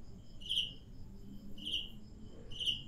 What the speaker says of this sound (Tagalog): Kuliglig eh.